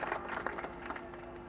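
A rally crowd claps for mayor Kirit Bhai Parmar at a Gujarat political gathering, a dense, fairly distant patter of hands that holds steady through the short stretch with a faint steady hum underneath.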